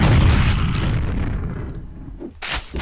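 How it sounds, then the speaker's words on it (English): Multi rocket explosions from the video game Quake on the nightmare-difficulty R2M5 level: a loud booming blast that rumbles and fades, then a second sharp burst near the end, with no voices. "Let's get ready with a multi rocket for you."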